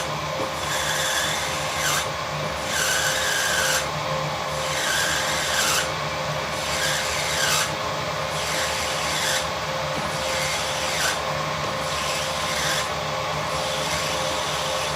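A 5mm drill bores a hole on a lathe while cutting a cross slide nut, giving a steady grinding rasp that repeats in a regular rhythm about every two seconds, close and continuous under a motor hum.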